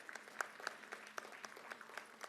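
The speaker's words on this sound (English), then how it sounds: "Let us have a round of applause as we embark on this exciting journey." Faint applause from an audience at a school's grand launch event, scattered individual claps with a thin, distant quality rather than a dense ovation.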